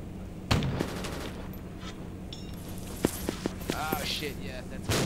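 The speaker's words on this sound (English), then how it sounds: "Oh, taking fire, taking fire." Gunfire crackles in the video game Arma 2 (Unsung mod) during a Vietnam-era assault on Hamburger Hill, Hill 937: sharp single shots and short bursts, fairly distant, with a soldier's voice speaking over the fire.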